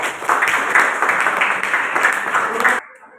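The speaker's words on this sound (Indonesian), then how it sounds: "Kita kasih tepuk tangan untuk kita semua." A class of students claps together in a classroom, with steady, fairly loud applause for nearly three seconds that then stops abruptly.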